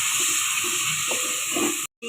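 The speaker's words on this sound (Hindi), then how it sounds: "ज़रा सा ये पानी का छींटा लगाना है ताकि मसाला जले ना।" A splash of water hits red chilli powder, salt and coriander powder frying in oil for a dhaba-style chana dal, giving a steady close sizzling hiss that cuts off abruptly.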